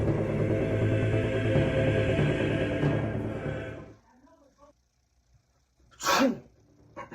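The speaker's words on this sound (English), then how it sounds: "don't sneeze no more" A single sharp, loud sneeze bursts out near the end, after several seconds of dense, noisy background sound that drops to near silence just before it.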